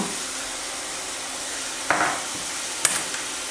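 Chicken pieces seasoned with paprika and salt are stirred in a hot pan, a steady hiss of frying with a couple of brief scraping knocks from a wooden utensil.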